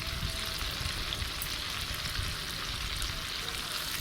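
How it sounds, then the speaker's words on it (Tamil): Eggs frying in hot oil until crisp give off a steady, hissing sizzle that holds at an even level throughout, heard close and alone. "இந்த மாதிரி நல்லா கிறிஸ்பியாக வர மாதிரி பொரித்து எடுத்து வச்சுக்கோங்க"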